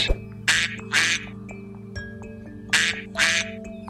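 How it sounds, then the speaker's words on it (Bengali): A duck quacks loudly nearby, five harsh calls in uneven pairs, with a steady hum underneath. "আহারে, কত সুন্দর নাদুস নাদুস হাঁস।"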